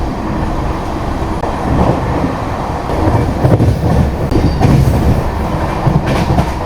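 Passenger express train from Tirunelveli to Mangaluru rumbling steadily along the rails near Virudhunagar, with rhythmic clickety-clack of wheels over joints, heard loud and close from inside the carriage.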